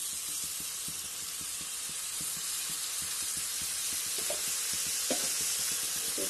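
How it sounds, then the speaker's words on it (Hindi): Ground garam masala, about two to three tablespoons, frying in a hot pan for a Murg Musallam curry, giving a steady close sizzle with a faint stir now and then and no voices. "इसे हम भून लेते हैं, डाल देंगे 2 से 3 टेबल स्पून।"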